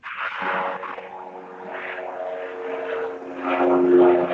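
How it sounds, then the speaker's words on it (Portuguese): An airplane passing overhead, a steady droning engine hum that swells slightly toward the end, moderately loud and continuous with no talk. "Tá passando um avião aqui."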